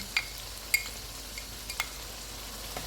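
Chicken liver kaleji with turmeric, cumin, coriander, red chili powder and green chilies frying in a pan, a faint soft sizzle broken by a few light clinks and stirring scrapes.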